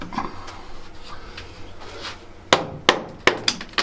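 Chipping away at a plastered wall in a cave house where an old extractor fan and its socket were fitted: a series of about five sharp, close hammer strikes in the last second and a half, with quieter scraping and knocks before them.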